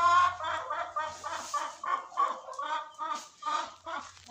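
Hens cluck in a close, steady series of short rhythmic calls, about a dozen pulses over a few seconds, heard alone without talk.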